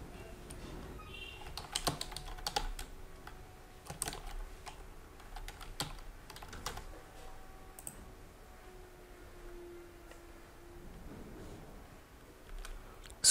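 Computer keyboard typing, heard as irregular bursts of light clicks and keystrokes spread through the recording at a quiet, close level with no talking.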